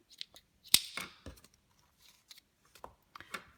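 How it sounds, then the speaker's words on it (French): Scissors snip through crochet yarn in a few crisp, close cuts separated by short pauses, with soft handling rustles between them. "et couper le fil"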